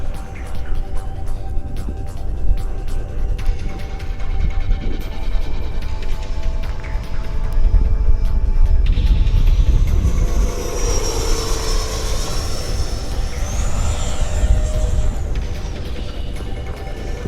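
A scale RC F-16 model jet flies past with a roaring turbine whine that swells and shifts in pitch as it passes, loud and unbroken throughout.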